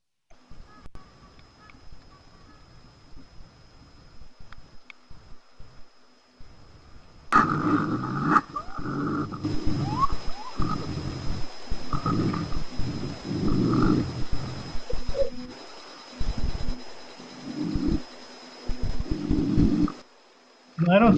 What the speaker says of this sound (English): I want you to be able to hear these raccoons talking to each other.